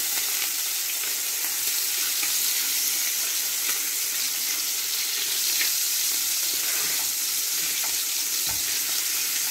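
Pre-boiled chicken drumsticks frying in a seasoned pan, a loud continuous sizzle and crackle of hot oil with occasional spits, close up and steady with no talking.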